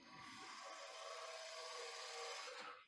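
A gouge bores a start hole into a wooden threaded-lid box blank, giving a steady, continuous scraping rasp of wood being cut, fairly loud and close, running unbroken for a few seconds before stopping abruptly.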